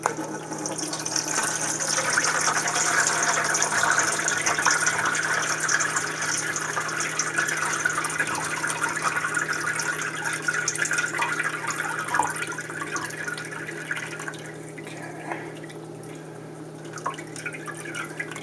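Homemade lamb broth pours steadily through a strainer into a container, a continuous splashing liquid stream with faint dripping that gradually softens toward the end, heard alone over a low steady hum.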